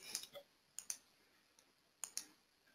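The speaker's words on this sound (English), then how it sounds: "I'm typing the D on my keyboard" Sharp, quiet key clicks on a computer keyboard, arriving in three small bursts of two or three taps each, close and isolated with no talking.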